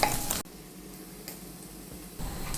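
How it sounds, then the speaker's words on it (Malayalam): Green chillies sauté with ginger and garlic in a pan for sabudana khichdi: a loud sizzle opens, then drops to a quieter frying crackle with light stirring before swelling again. "ഇതേ രണ്ട് മൂന്ന് പച്ചമുളക് ഞാൻ അരിഞ്ഞെടുത്തിട്ടുണ്ട് അതും കൂടി നമുക്കിട്ട് ഒന്ന് വഴറ്റി കൊടുക്കാം"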